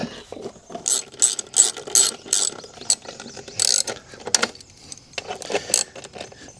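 A ratcheting start wheel on a start motor is cranked by hand at a homestead, giving loud, close clicking ratchet bursts in an uneven repeated rhythm with brief gaps between turns.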